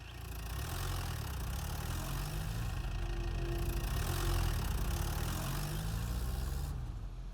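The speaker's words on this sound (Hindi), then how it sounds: "ट्रैक्टर लेकर ऊपर ही खड़े हैं।" A tractor engine idles steadily, a loud, continuous low chugging drone that holds evenly for several seconds before easing slightly at the end, with no talking.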